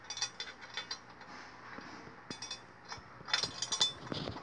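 A size 11 socket wrench ratchets screws tight while a suspended shelf is mounted, giving quiet clicking runs with faint metallic clinks that grow louder and denser near the end, no talk heard.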